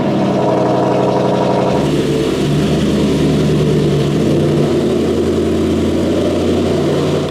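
An Aston Martin Vantage Roadster runs after a cold start, its engine idling high and loud up close, then the note drops and settles into a lower rumble as the car pulls forward.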